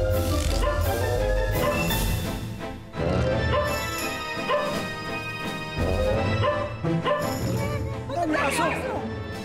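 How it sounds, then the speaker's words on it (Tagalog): Several dogs bark and yelp amid a chaotic scene, loud and continuous, mixed with shouting voices and crashing noise throughout. "Ang aso!"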